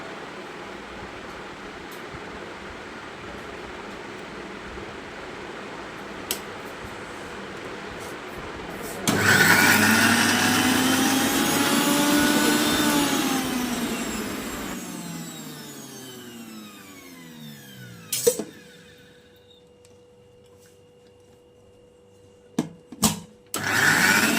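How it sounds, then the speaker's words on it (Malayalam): A kitchen mixer grinder blends ingredients for a drumstick flower curry, whirring loudly in one burst of about six seconds before winding down, followed by a few sharp clicks and knocks in an otherwise quiet room. "ഇതെല്ലാം കൂടി ഇട്ട് ഒന്ന് മിക്സിയിലിട്ട് അടിച്ചെടുക്കുക"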